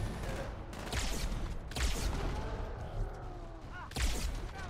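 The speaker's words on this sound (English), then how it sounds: "Two shots." Gunfire in the video game Halo 2 Anniversary, with several sharp shots and booms over a dense, noisy battle backdrop, loud and close, with faint game voices in the mix.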